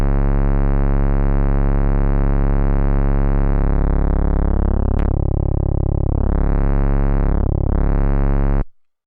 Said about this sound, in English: I want this bass to have more even harmonics, then you can introduce asymmetric nonlinear distortion